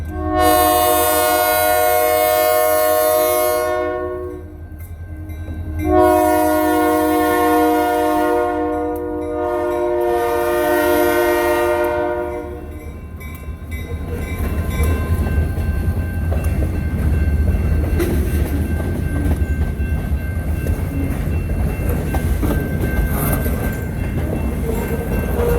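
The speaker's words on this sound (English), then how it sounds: "Long string of covered hoppers." An Indiana & Ohio Railroad freight train with a long string of covered hoppers rolls past close by, its horn blaring in two long loud blasts, followed by a steady rumble and rattle of passing cars.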